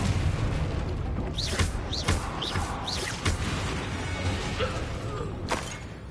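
Confringo spell blasts from the video game Hogwarts Legacy land as a string of sharp booming impacts with whooshing bursts, roughly four quick hits followed by a couple of later thuds, set against a busy battle background.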